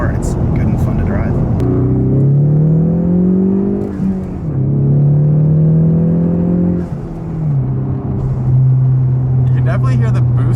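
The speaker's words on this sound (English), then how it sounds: "Definitely hear the boost kicking in." The turbocharged 2.3 EcoBoost four-cylinder in a Ford Mustang pulls under boost, heard from inside as a steady engine drone that repeatedly climbs in pitch and drops back at each gear change.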